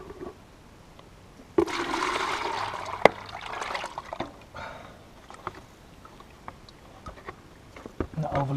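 Warm engine oil pours and splashes from a car sump into a waste container outdoors on gravel, a sudden gush settling into a trickle, with people talking over it.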